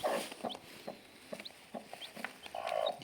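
Soft, repeated clucking from a brooding hen nearby with chicks, short low calls at irregular intervals with faint high peeps mixed in.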